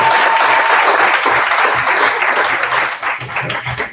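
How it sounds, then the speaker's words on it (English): Workshop audience giving a loud, sustained round of applause, dense clapping from many hands that stays strong before thinning out toward the end. "let's make that a round of applause for all of us"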